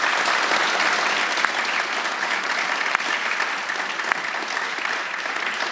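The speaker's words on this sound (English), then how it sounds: "So let's give both of them a big round of applause." A roomful of people applauds two students at a high school athletic signing. The clapping is dense and continuous at steady loudness for several seconds, with a few sharper claps poking through.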